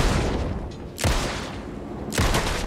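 Gunshots in the video game Alan Wake 2, two loud sharp blasts about a second apart over a dense, noisy game background.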